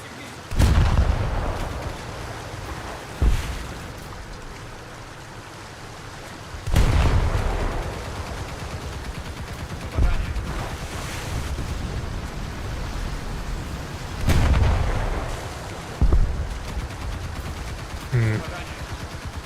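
Naval guns in a warship video game boom repeatedly in heavy, widely spaced salvos over a constant engine and sea rumble, with someone talking between the blasts.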